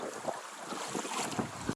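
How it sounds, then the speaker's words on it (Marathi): Fast, full-force river water rushing in a Konkan village stream, a continuous broadband roar with wind buffeting the microphone, no speech. "हवा वाहता पाणी आहे"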